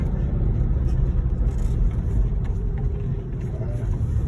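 Car engine rumbles steadily from inside the vehicle as it drives along a narrow country lane just wide enough for two cars, a close, continuous low drone without talk.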